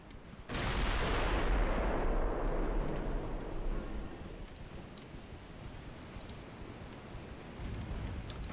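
Heavy naval gunfire from 2-inch guns in a video game: one loud, booming blast strikes, then a long rumbling roar slowly fades into a steady wash of low noise.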